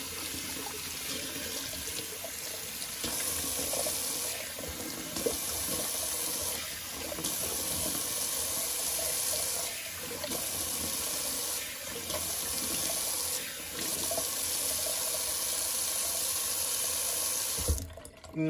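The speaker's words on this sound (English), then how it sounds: "let's do a little cold water rinse" Cold water runs steadily from a sink tap for a rinse, a continuous, close splashing stream lasting well over fifteen seconds before ending with a short clunk.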